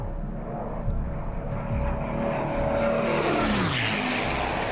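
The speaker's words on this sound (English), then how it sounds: "Certainly lower than most people are used to having aircraft pass over their heads." A low-flying propeller aircraft passes overhead at about 200 mph, roughly 20 to 25 feet up, with no muffler. A loud, swelling engine roar peaks with a sharp Doppler sweep, then begins to recede.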